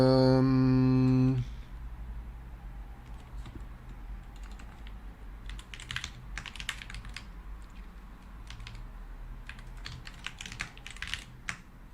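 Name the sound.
typing on a computer keyboard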